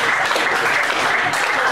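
Wrestling crowd in Ipswich applauding at a women's championship match, a steady dense wash of clapping that fills the whole moment without letting up.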